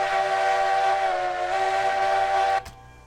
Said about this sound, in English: That's a cool sounding whistle there.